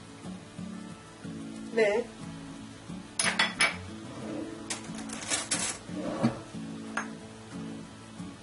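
Rice and salt going into a pot for Uzbek pilaf, with close metallic clinks and scrapes of a spoon against cookware and a faint sizzle, while a voice speaks between the clatters.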